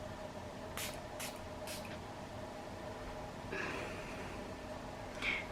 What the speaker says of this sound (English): And I'll just be spraying my face.